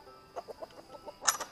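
Backyard chickens cluck in a quick series of short, soft calls close by, with one sharper, louder squawk near the end, and no talking.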